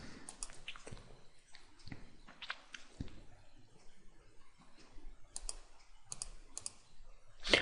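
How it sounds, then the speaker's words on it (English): Computer keyboard keys pressed during a Windows 7 installation, a series of sharp, close clicks spread unevenly across the clip with a quick cluster near the end, no talking. "Just press any key on your keyboard. I always press enter"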